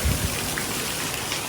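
Rainwater pours heavily off a tarpaulin at the Kalyan market, a dense, steady splashing rush that stays close and constant throughout, with no voices.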